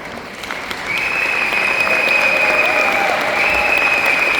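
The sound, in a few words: seminar audience applause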